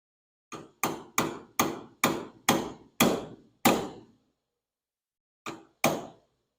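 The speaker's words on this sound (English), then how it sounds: "This elf hammer comes in awfully handy." Eight sharp, evenly spaced metal hammer strikes on rivets, then a pause and two more blows, close and crisp with nothing else heard, while closing an aircraft wing.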